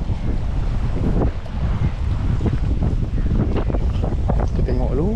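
Strong wind blusters over open water while fishing from a boat at Talang Padang off Penang, a constant loud roar buffeting the microphone, with indistinct voices talking underneath throughout.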